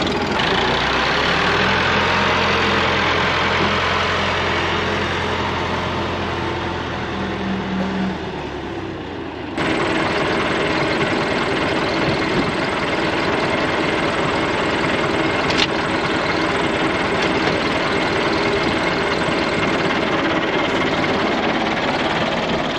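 A vehicle engine runs steadily and loudly while a trailer is moved out of the way on a property where timber is being brought home. A low droning rumble shifts in tone partway through, then carries on evenly.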